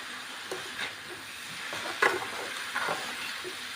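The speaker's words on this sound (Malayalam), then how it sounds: "എല്ലാം നല്ലപോലെ മിക്സ് ചെയ്ത ശേഷം നമുക്കിതൊന്ന് വേവിച്ചെടുക്കണം" Yam stalks and green gram with salt are stirred in a pan over a soft, steady sizzle, with a few scraping strokes of the spoon close by.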